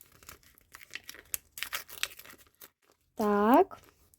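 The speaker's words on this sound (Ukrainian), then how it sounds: "Далі давайте відкриємо зелений пакетик." A person talks quietly, then a short, sharp tearing and crinkling of a small green paper packet being ripped open near the end.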